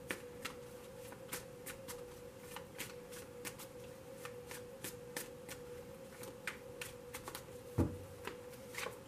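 Playing cards riffled and shuffled in quick repeated bursts, close and crisp, with a steady faint hum underneath.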